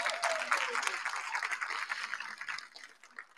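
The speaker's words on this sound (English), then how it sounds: "And let's give another round of applause, please." Applause from an audience at a Morgan State University nursing pinning ceremony, honoring the nursing executive board: a dense, steady patter of many hands clapping at moderate volume that slowly thins toward the end, with some voices mixed in.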